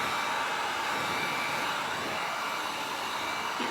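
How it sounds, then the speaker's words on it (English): Wagner 300 heat gun blowing hot air to dry paint on a spring bunny wreath craft, a steady, loud, close whoosh running unbroken throughout with no talking. "I literally just watched this heat gun melting my bunny."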